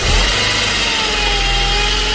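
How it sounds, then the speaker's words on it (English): A 2006 Saab 9-5 Turbo engine runs steadily at close range, a loud continuous drone with a low rumble and a faint high whine and no speech over it. "That's just engine noise."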